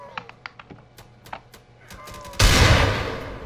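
Gunfire in the Roblox game Black Hawk Rescue Mission comes as a series of sharp, evenly spaced clicking shots followed by a sudden loud burst of noise that slowly fades.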